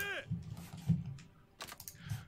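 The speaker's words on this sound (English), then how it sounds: "We're using a different keyboard, it's not working as well." Close computer keyboard typing comes in soft scattered clicks and taps over a quiet room tone during a strategy game session, with a voice talking briefly at the start.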